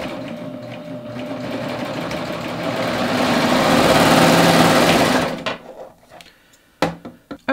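A serger sewing machine runs a fast, continuous whirring stitch through a bust dart in fabric, growing louder before stopping abruptly, followed by a few light clicks and handling knocks.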